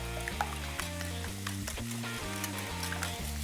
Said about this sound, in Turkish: Sebzelerim güzelce soteleniyor.